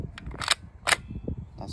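A Glock 17 BB pistol being cocked: two quick, close mechanical clacks about half a second apart, followed by a lighter click.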